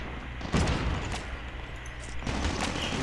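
A rapid burst of automatic gunfire in the mobile shooter Call of Duty Mobile, dense crackling shots starting abruptly, then further firing later on over steady game background noise, with no talk.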